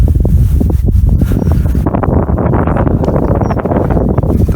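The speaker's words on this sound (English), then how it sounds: "The motion of the rushes with the wind catching them." Wind gusts through rushes in a nature habitat at a coastal reserve, a loud close rushing and buffeting that eases partway through into a softer steady blow.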